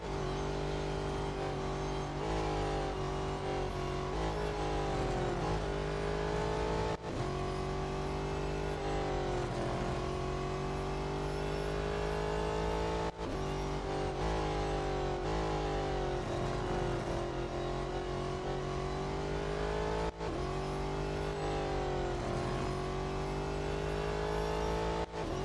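LMP race car engine in the Real Racing 3 game, a loud, continuous high-revving prototype engine climbing through the gears in repeated rising sweeps with brief dips at each shift, sustained throughout with no talking.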